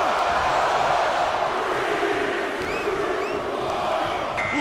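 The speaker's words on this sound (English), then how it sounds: "Just listen to the crowd." Arena crowd in the WWE 2K24 Royal Rumble wrestling video game, a continuous wash of cheering and roaring from many voices, holding steady throughout with a few faint whistle-like calls.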